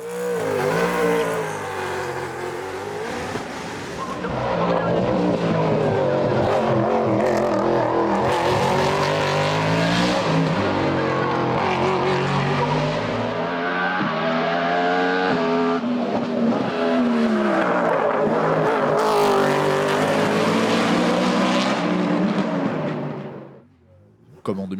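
A BMW M3 E92 race car at a hill climb on the Col Saint-Pierre roars loudly and steadily, engine revving hard through gear changes with brief tire squeal, staying close and dominant before cutting off abruptly near the end.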